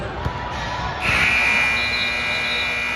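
A sustained electronic game clock buzzer sounds over a noisy crowd at a girls' basketball regional tournament game, starting a second in and holding steady to the end.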